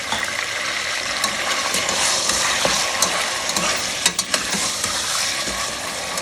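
Meat and garlic paste fry in a pot for biryani, stirred by hand, giving a steady close sizzle with soft scraping and a few sharper crackles and clicks partway through, no talking.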